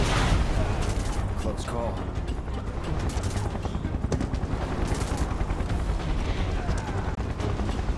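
Dense gunfire in Final Fantasy 7 Remake, rapid automatic bursts and sharp shots rattling continuously amid a mechanical rumble, with voices shouting over the battle.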